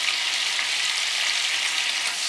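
Two bay leaves sizzle in melted butter as a base for paneer butter masala, giving a steady, even hiss of frying that holds at the same level throughout with no talk over it.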